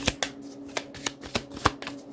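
Cards being handled and shuffled, a series of crisp riffling snaps at irregular intervals, close and fairly quiet.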